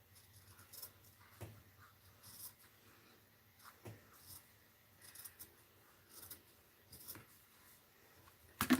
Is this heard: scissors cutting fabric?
yes